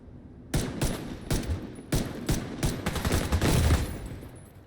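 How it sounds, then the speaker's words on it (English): Video game gunfire in a realism-style shooter: a string of sharp shots in short irregular bursts, some spaced and some rapid, fairly quiet overall, with no talking. "Why are you not dying when I shoot you in the head?"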